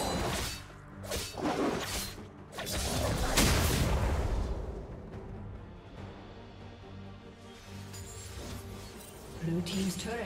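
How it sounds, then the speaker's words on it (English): A turret is destroyed in League of Legends, with a booming, crackling explosion and shattering debris swelling and fading amid game effects and background music. "Blue team's turret has been destroyed."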